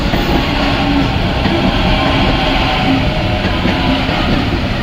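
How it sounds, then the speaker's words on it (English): Several trains rumble past near a rail bridge at Granville, giving a loud, steady, continuous roar of wheels and carriages with no pauses and no voices throughout. "So let's wait for these trains to clear out."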